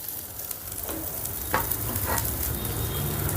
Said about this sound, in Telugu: అల్లం వెల్లుల్లి పేస్ట్ కూడా ఫ్రై అయిందండి ఇప్పుడు ఇందులో ఒక టేబుల్ స్పూన్ కారం కూడా వేసుకుందాం